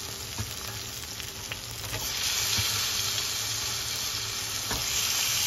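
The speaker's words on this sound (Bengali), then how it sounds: "চিকেনের মশলাটা যখন ফ্রাই হয়ে যাবে ভালোভাবে" Chicken curry masala fries hard in a pan, a dense close sizzle and hiss with occasional stirring scrapes, growing louder partway through, and no talking.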